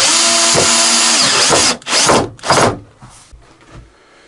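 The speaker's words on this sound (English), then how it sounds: "I fix the case with the screws" A power drill drives screws to fix the case of a homemade table saw, with a loud sustained whir followed by two shorter bursts as the motor spins up and stops, tapering into quieter handling noise.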